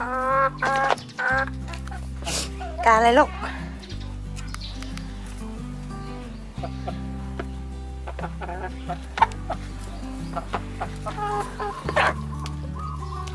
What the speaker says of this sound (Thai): เดี๋ยวเราไปให้อาหารไก่กันเลยค่ะ